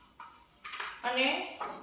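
A spoon stirring yogurt in a bowl, giving a few light scraping and clinking strokes close by while a person talks over them.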